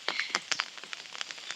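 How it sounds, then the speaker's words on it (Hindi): Rain falls at Rewalsar lake in Mandi, Himachal Pradesh, scattered drops pattering irregularly and close on a nearby surface, with sharper ticks standing out over a soft wash. "ऊपर से बारिश लगी हुई है"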